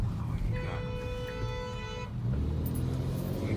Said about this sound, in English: People were yelling, honking.